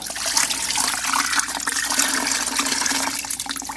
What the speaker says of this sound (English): don't wring it out completely, just enough so you're not dropping water all over the place